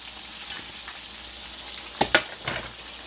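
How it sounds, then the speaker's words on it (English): Catfish and fries sizzle in hot grease, a steady close crackle broken by a few clattering stirs of a utensil in the pan near the end, with no talking. "Let me stir my fries, stir my fish."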